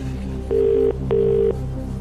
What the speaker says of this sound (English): OK, we'll phone Pete, tell him the question